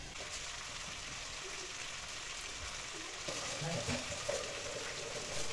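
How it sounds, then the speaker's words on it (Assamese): Meat fries in a pan over low heat with very little oil, giving a soft, continuous sizzle and crackle that swells slightly toward the end. "একদম কম তেলত কম জুইত পুৰা ভাজি ল'ম"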